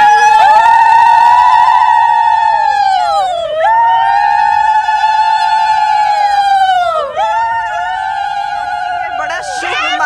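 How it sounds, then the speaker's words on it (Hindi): Women ululate (ulu dhvani) to welcome the Prime Minister, several high trilling voices held in long sustained warbles that pause briefly and start again, loud and close throughout. "उलूक ध्वनि देकर के प्रधानमंत्री का इंतजार करती है महिलाएं"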